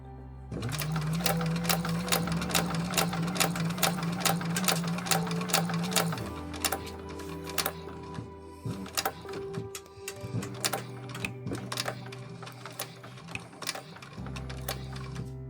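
A sewing machine stitches an EVA bag in steady rapid bursts of needle clatter, a smooth hum under the first stretch, then shorter runs and pauses with small handling clicks.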